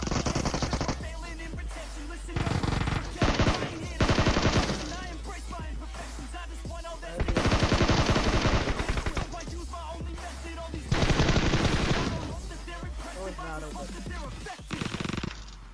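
Bursts of rapid automatic gunfire from the video game PUBG Mobile, loud and dense, coming in several long volleys with brief gaps between them and no talk over them.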